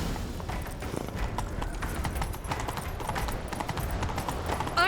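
Horse hooves gallop in The Witcher 3: a fast, steady drumming of clip-clop beats that stays loud and close throughout, over a rushing background.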